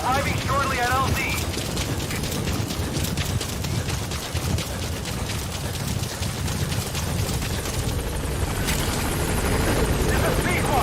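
The B-Quad support helicopter in Metal Gear Solid 5 closes in on a landing zone in Africa, rotor chop thudding in a rapid steady rhythm under radio chatter, with louder bursts and rushing noise near the end.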